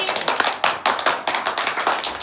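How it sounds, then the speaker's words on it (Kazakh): A small group clapping hands at an informal catwalk-style fashion show, loose uneven claps in quick bursts, close and fairly loud. "Қол шапалақтаймыз кәнекей."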